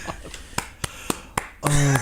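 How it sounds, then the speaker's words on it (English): A few sharp claps at the end of a song, each a crisp isolated snap spaced about a quarter second apart, followed by a voice cutting in at the close. "that's the obligatory clap at the end of every song"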